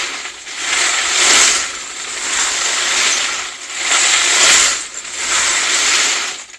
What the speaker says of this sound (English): I'm just going to spin it in the cleaner water.